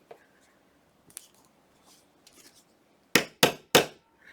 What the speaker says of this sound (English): I'm going to hit it with the hammer again, so get ready because it's going to make a noise again